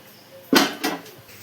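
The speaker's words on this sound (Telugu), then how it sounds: "ఇప్పుడు నీట్గా ఇదంతా కలుపుకొని మూత పెట్టి ఉడికించుకోవడమేనండి" A lid set down on a cooking pot of spiced pulao rice, one clear metallic clack followed by a softer second knock, close and fairly quiet in an otherwise still kitchen.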